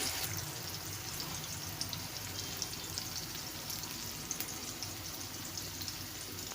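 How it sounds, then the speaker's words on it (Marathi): Tomatoes and green chillies sauté in a pan for a cabbage bhaji, giving a steady, soft, continuous sizzle throughout with no voices. "टोमॅटो छान दोन मिनिट मस्त असा परतवून घ्यायचा आहे"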